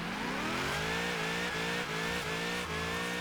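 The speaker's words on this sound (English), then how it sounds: "does a mighty fine burnout" A car doing a burnout in the racing game Forza Horizon 3, with a loud, sustained engine roar climbing in pitch and holding high revs, and steady tire screech running underneath the whole time.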